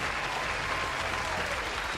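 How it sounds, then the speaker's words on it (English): Steady, fairly faint applause from a crowd runs continuously for about two seconds, an even wash of clapping with no speech over it. "Can we get some claps?"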